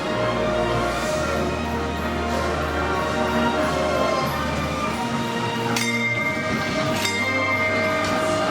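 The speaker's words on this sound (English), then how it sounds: "The main event of Celebration Crossing is the Snowfall Express, a miniature railroad ride inside the museum" A miniature railroad train ride, the Snowfall Express, runs indoors inside the Indiana State Museum, with a steady rumbling rolling sound, low mechanical hum and occasional brighter clinks and squeals, loud and continuous throughout.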